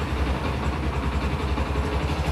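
A Yamaha YBR 125 motorcycle engine with a freshly adjusted carburettor idling steadily up close, a low, even chugging throb with no revving.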